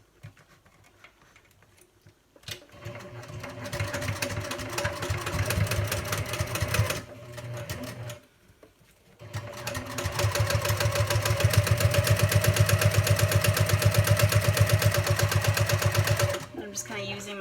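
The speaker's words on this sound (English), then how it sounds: "I'm just going to top stitch all the way around on both sides" A sewing machine top stitches a wristlet strap, running in a long steady mechanical patter that stops briefly twice and restarts, the stitching loud and close.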